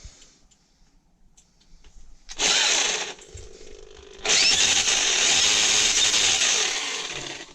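An old electric drill whirs loudly while repairing a seat mount on an Ursus C-360-3P tractor, stopping briefly, then revving into a sustained, harsh high-pitched grind that fades slightly at the end.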